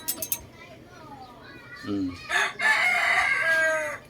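A rooster crows loudly and close among backyard chickens, its drawn-out call rising and falling over a couple of seconds, with scattered clucks and a voice speaking briefly before it.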